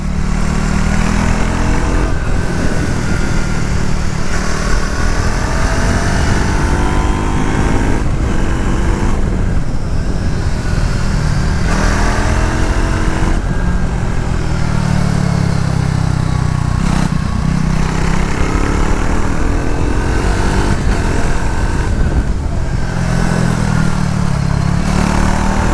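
A Triumph Tracker 400 motorcycle engine drones loud and close while riding on a road with bumps and potholes, its pitch rising and falling with throttle changes over steady wind roar.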